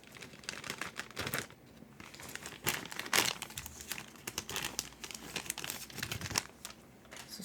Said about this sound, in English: place all 88 cubes into the bag and shuffle them